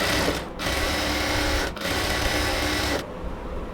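An electric sewing machine stitches fabric for a pillow cover in steady, fast runs of whirring needle strokes, close and even, with two short pauses and a softer stretch at the end.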